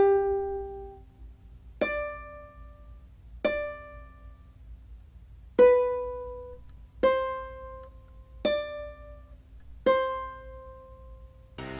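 Ukulele picking the opening phrase of the Epitaph of Seikilos, seven clear plucked notes at a slow, even pace, each ringing and decaying alone in a quiet room.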